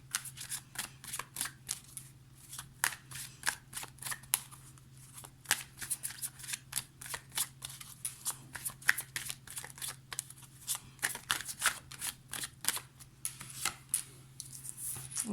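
Tarot cards are shuffled by hand in a steady run of crisp, close riffling slaps that keep going throughout over a faint low hum.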